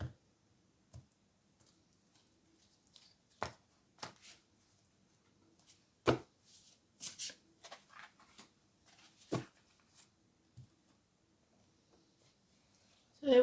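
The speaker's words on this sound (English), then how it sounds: "shoving them about, aren't they? New cards, a bit slippy" New, slippery tarot cards being shuffled and shoved about by hand, a quiet run of scattered soft clicks and brushing taps with pauses between them, close by.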